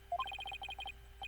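In a Phoenix Wright: Ace Attorney Spirit of Justice game session, a phone nearby sounds an Amber Alert with a faint, rapid, repeating electronic trill of short, evenly pulsed tones.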